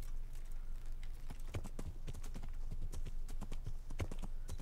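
Horse hooves clip-clop steadily in the medieval game Kingdom Come Deliverance, a quick irregular trot of sharp thuds over a low constant hum, fairly close and even in loudness throughout.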